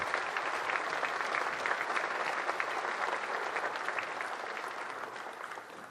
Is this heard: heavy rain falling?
no